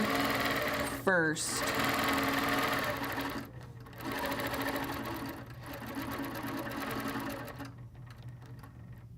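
A sewing machine steadily stitches a quilt design with rulers, a continuous mechanical whir that pauses briefly around the middle and again near the end, with a person talking over it throughout.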